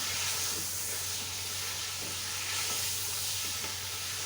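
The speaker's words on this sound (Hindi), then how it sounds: "दो 3 मिनट गोश्त की भुनाई करें ताकि इसका कलर जो है वो चेंज हो जाए" Mutton pieces for nihari sizzle and fry in hot oil, a loud, continuous close hiss that stays steady the whole time, with no talking.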